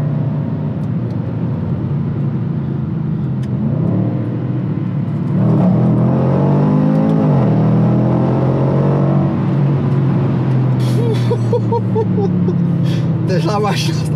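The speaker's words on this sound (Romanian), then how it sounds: "Dacă auziți bine pe fundal, se aud acele pop-up-uri." A Range Rover SVR performance SUV's engine revs up and falls back in a long rising and falling sweep, followed by sharp crackling exhaust pops near the end, with a voice talking over it.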